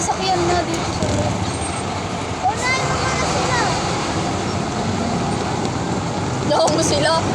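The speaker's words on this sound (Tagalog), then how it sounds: "May sasakyan na dito sa loob." Vehicle engine running inside a building, a steady loud rumble with echoing reverberation throughout, with a few faint voices and squeaks over it.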